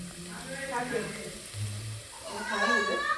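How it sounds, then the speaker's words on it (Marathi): Curry leaves, onion, garlic and chili shallow frying for a turmeric vegetable dish, a continuous sizzle and hiss that swells toward the end, partly under nearby voices talking. "लसूण, मिरची हे वापरून त्याला थोडं शॅलो फ्राय करायचं असतं"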